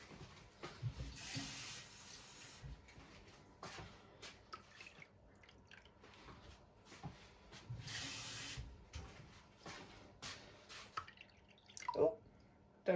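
Water trickling and dripping into a small plastic egg mould from a tap, quiet intermittent splashes and spurts with pauses between, close and faint, no talking.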